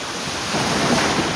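Sea waves crash and surge onto a crowded Sunday beach in a brief, loud, close roar, mixed with strong buffeting wind noise on the microphone and no voices.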